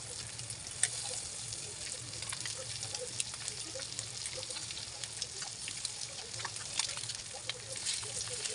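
Eggs slit open and set one by one on a deep tawa over a masala base sizzle steadily, a close, even frying hiss with faint occasional pops and no talking.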